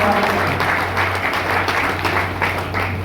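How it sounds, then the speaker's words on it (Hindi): Party workers at a joint Gohana and Baroda constituency rally clap together in a dense, steady wash of applause, loud and even throughout with a low hum running underneath. "जोरदार तालियां बजाकर"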